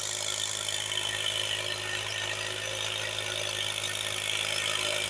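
A tractor engine runs steadily at a wheat field being ploughed with a rotavator, a constant loud idling drone with mechanical rattle holding level throughout, no voices.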